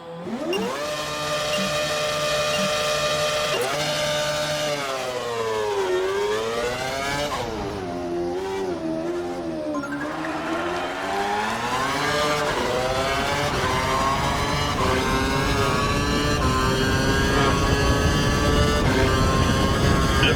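A Formula 1 car in the F1 2012 racing game accelerates hard, its high-pitched engine whine climbing through the revs, dipping on gear changes, then surging again, loud and continuous without any talking.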